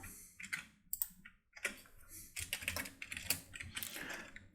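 A file name typed on a computer keyboard, with quick irregular keystroke clicks at close range, short pauses between bursts, quiet and without voices.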